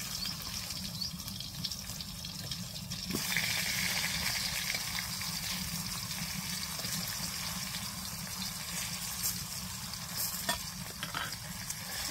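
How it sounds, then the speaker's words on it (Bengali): Eggplant fries on a clay stove in a constant, dense sizzle that gets slightly louder partway through, with occasional scraping stirs and light clinks layered over it and no voices. "রান্না তাও মাটির চুলায় যে বেগুন ভাজবো"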